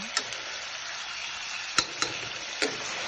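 Chicken curry with softened tomatoes sizzles in a pan under a constant crackle. A few sharp spoon scrapes and taps from stirring break through near the end.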